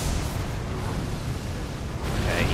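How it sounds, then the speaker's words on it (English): Steady roaring rumble of an explosion in the video game Elden Ring, dense low booming noise that swells slightly near the end, loud and continuous with no voices. "he's doing the explosion again"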